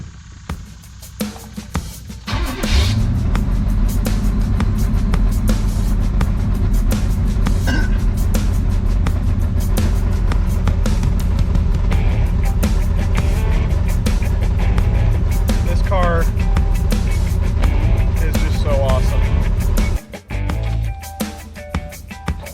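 A 1979 Chevrolet Malibu V8 catches after a brief crank and settles into a loud, steady idle rumble, held for about seventeen seconds before cutting off abruptly, with a short restart burst at the end.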